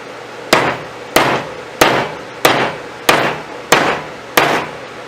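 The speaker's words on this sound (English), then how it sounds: "I like to use a heavy hammer because I want that wedge in there just as tight as I can possibly get" A heavy hammer drives a wedge into a hatchet handle with seven evenly spaced, sharp, loud blows, each ringing briefly, and no talk.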